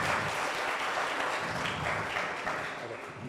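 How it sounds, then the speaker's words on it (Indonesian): An audience at a music app final project presentation applauds for a few seconds, a dense, steady wash of clapping that tapers slightly toward the end. "thank you untuk tepuk tangannya"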